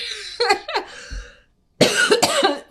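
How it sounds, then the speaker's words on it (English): Two bursts of harsh, close coughing separated by a short silence, each burst made of several quick hacking coughs. "I got a little bit of a cough going this morning"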